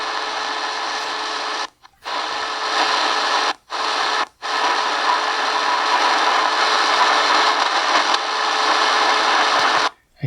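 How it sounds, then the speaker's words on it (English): An XHDATA D-808 portable shortwave radio tuned to a sideband signal gives out a dense, steady hiss of static and garbled transmission, broken by a few brief dropouts; no one speaks. "I hear some transmissions."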